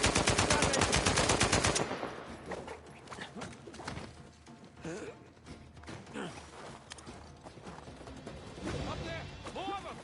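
Rapid automatic gunfire bursts loudly for the first two seconds in Uncharted 4 combat, followed by scattered shots, impacts and shouted voices amid the firefight.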